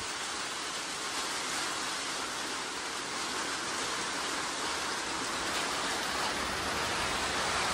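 Steady, dense rain hisses continuously, a broad even wash of falling water with no pauses.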